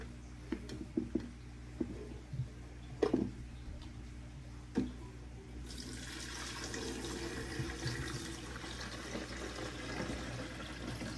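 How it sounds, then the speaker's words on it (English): Faint ticks and small knocks come first, then water starts running into a betta fish tank as a steady hissing pour, quiet and close. "I'm gonna fill this up with some water."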